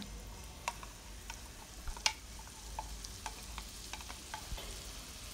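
Spice paste for a Bengali rui fish curry sizzles gently in a pan over a low flame, with soft continuous frying and scattered scraping clicks as it is stirred, fairly quiet and with no talk.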